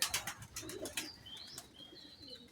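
Belgian and Netherlands racing pigeons in a loft, giving soft coos and brief wing flaps close by, with a few thin chirps over quiet background.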